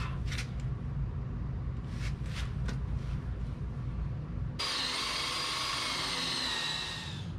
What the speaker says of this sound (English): I'm gonna drill this other hole first.